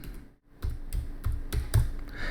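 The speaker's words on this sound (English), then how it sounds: "I'm going to start typing animate." Quick bursts of typing on a computer keyboard, several close keystrokes after a brief pause, fairly near and clear, with no talking.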